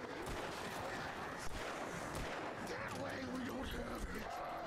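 Gunfire in Alan Wake Remastered comes as a faint flurry of sharp shots scattered through the clip, mixed with background game noise and some voice activity.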